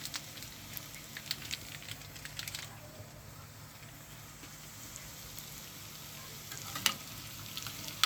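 Vermicelli fries in a pan for Egyptian-style lentils with a steady, close sizzle, crackling louder at first before settling into a softer, even hiss with a few sharp pops.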